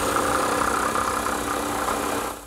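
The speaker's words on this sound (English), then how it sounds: "Here at my drum sander, I'm smoothing the face" A woodworking drum sander smooths the face of a wooden console table part with a steady, loud motor drone and grinding rumble that holds level, then tapers off at the very end, with no voices.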